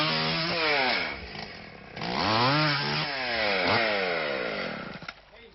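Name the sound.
chainsaw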